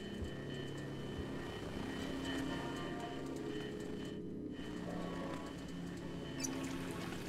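A toilet flushing in the video game The Blackout Club, a steady rushing water roar that fills the whole stretch, loud and continuous, with no voices.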